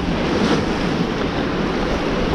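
Steady, loud roar of wind and breaking surf on a rocky UK shoreline, with gusts buffeting the microphone throughout and no voices.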